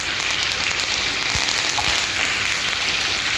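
Fish frying in oil with garlic on a tawa makes a constant, dense, close-up sizzle like light rain, steady throughout with a couple of faint low knocks.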